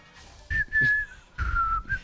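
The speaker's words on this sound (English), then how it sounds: "It's just get some whistling going." A commentator at a Rift Legends esports finals whistles a short tune, two drawn-out notes close to the microphone separated by a brief pause.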